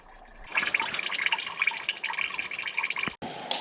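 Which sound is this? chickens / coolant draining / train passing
coolant draining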